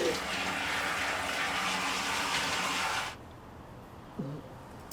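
Water gushes steadily from a tap or shower for about three seconds, then cuts off abruptly, leaving a quiet room with one brief voice at the end.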